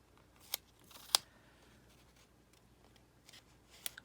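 Scissors snip through a watercolor journaling card with pressed flowers, giving a few sharp, quiet cuts spaced apart against a near-silent background.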